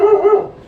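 A dog gives a short, close, tonal bark, two quick yelping pulses fading into a brief whine.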